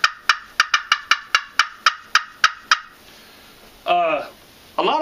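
Crystal-surface friction turkey call being cut: a rapid run of about eleven sharp, evenly spaced clucks, then a short pause and a couple of louder raspy yelps.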